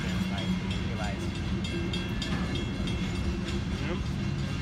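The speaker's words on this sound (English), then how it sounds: "There's a train for you, Joe." A train passes nearby at a railroad crossing with a steady rumbling roar and rhythmic rail clatter, with voices audible over it.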